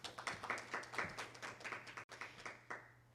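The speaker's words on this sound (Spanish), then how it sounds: "Un aplauso para Mayra." An audience applauds a speaker at an academic symposium panel, a short, fairly even run of claps that sounds faint and somewhat distant, then fades out.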